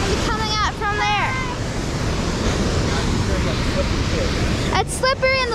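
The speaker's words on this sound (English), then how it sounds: "the waterfall's very loud" Loud waterfall in Yosemite National Park, a steady roaring rush of water that fills the whole clip, with a person talking over it near the start and again near the end.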